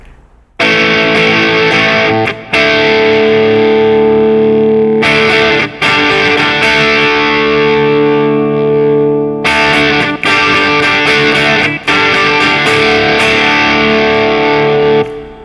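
Loud distorted electric guitar plays the driving riff from a rock song at the end of the second chorus, sustained crunchy chords broken by a few short stops between phrases.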